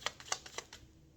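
Tarot cards being shuffled by hand, a quiet series of about six crisp, separate clicks and flicks spaced roughly a tenth to a quarter second apart, with no talking.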